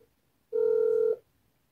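A telephone call rings out as a single steady electronic tone lasting about half a second, clear and alone against near silence.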